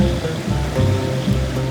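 Bubbling water churns in a jacuzzi at a seaside holiday house on the Caspian Sea, a continuous rushing, gurgling wash close by with no talking.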